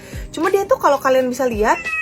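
A pet cat named Tesla meows twice, close by, its short rising-and-falling calls overlapping a person talking.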